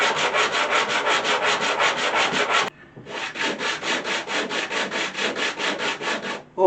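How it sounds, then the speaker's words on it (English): A wooden carpenter's marking gauge is rubbed back and forth by hand on sandpaper, giving steady rhythmic scraping strokes, about ten per burst, in two runs split by a short pause. "after doing all of that sanding"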